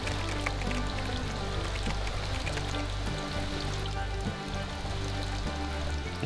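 Kisa Creek running below a bridge in a mountain valley, a steady rushing and trickling water wash, constant and moderately close, with a low rumbling undertone.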